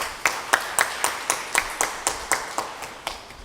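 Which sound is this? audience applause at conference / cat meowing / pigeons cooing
audience applause at conference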